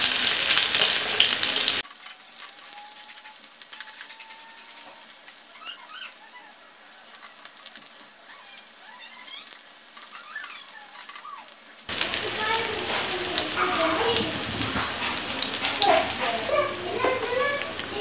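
Raw banana slices fry in oil in a pan, giving a steady sizzle and crackle that runs the whole time and grows louder and brighter toward the end. There is no talking.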